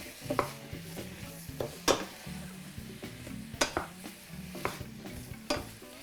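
Sausages and peppers sautéed in a pan, with a soft sizzle beneath repeated scraping and clinking of a utensil stirring against the pan at an irregular rhythm.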